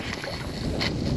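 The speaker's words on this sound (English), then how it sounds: "I don't know if y'all can hear it, but it is pretty windy" Wind blowing outdoors on a barrier island, buffeting the microphone in a steady, close broadband rush with gusty swells and no voices.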